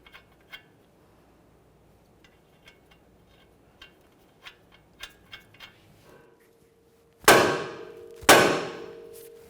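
A hammer taps on a 1994-1997 Honda Accord's suspension knuckle to free the upper ball joint. Quiet light ticks come first, then two loud ringing metallic clangs about a second apart, close up.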